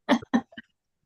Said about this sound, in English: I apologize for any coughing that comes along with this presentation